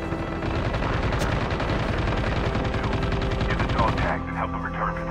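Rapid automatic gunfire in the mobile shooter game Call of Duty Mobile battle royale, a dense loud burst of shots lasting several seconds before cutting off to a quieter background.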